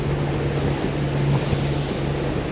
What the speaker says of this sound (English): 30 knots of wind now, straight at us